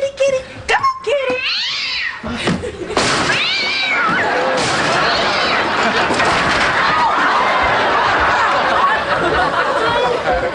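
A cat meows and caterwauls loudly up close, with several yowling calls early on before a dense, noisy wash of sound takes over for the rest of the stretch.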